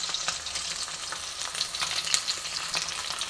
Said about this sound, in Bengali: আমি সর্ষের তেল গরম করে রুই মাছ ভাজতে দিয়েছি